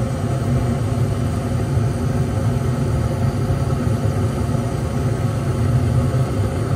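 A gas furnace burner fires after a York electronic gas valve replacement, giving a steady, close, continuous roar and rumble that holds even throughout with no talk.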